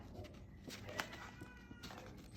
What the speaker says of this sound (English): Hear the cat? They're about to brawl.